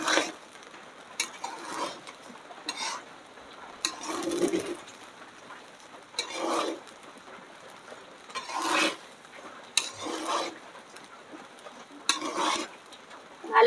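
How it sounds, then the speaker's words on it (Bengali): Dal is stirred and fried in a pan for khichuri, with repeated scraping strokes of a spoon against the pan in irregular bursts over a soft sizzle, close and moderately loud. "ভালো করে নাড়তে হবে,"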